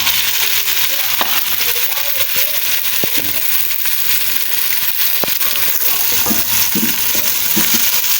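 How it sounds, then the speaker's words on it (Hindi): Chickpeas dropped into a pan of garlic and ginger frying in oil, giving a steady loud sizzle with scattered clacks and stirring scrapes close by, and no talk. "एक से 2 मिनट लहसुन अदरक भून जाए और हम इसमें चने डाल देंगे।"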